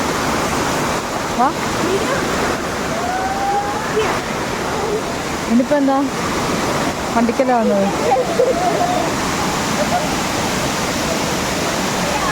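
Rushing water from Areekkal waterfall, a steady broad roar filling the whole scene, with people chatting nearby over the constant flow.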